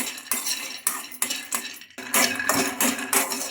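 Peanuts frying in a kadai are stirred with a metal spoon, giving a steady series of sharp scraping clinks against the pan about every half second over a dry crackle, close and fairly loud, with no voices.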